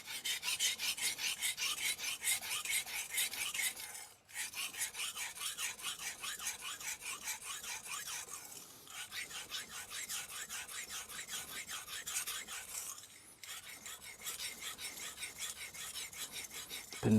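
Tojiro Professional R2 santoku, 170 mm, stroked across a whetstone in a steady back-and-forth rasping rhythm, close and continuous, with two brief pauses between sets of passes.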